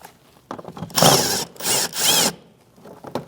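A power driver with a 7mm socket spins out screws holding the ABS bracket to the fender liner of a 2016-2025 Chevrolet Malibu 1.5L, in two or three short, close whirring bursts separated by brief pauses.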